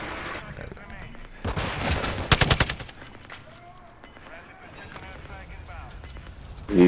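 Gunfire in a shooting video game: bursts of rapid automatic fire, loudest in a tight volley around the middle, mixed with game noise and a voice talking over it.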